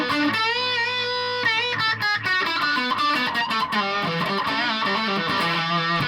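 Vantage Avenger electric guitar run through a Rat distortion pedal, a continuous stream of overdriven notes and bends with vibrato, close and steady with no voices.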